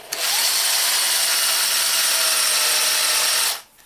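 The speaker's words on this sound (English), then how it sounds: "take my drill and I'm going to trim the brass" A power drill spins a Lee case trimmer cutting a .223 Remington brass case, making a loud, steady whirring whine for about three and a half seconds before it winds down and stops.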